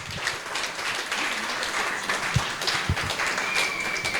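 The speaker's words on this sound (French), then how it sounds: "Acclamons très fort." Applause from a church congregation during a healing prayer service, a steady wash of clapping and cheering that carries on throughout, lively and fairly loud, with a few scattered louder claps.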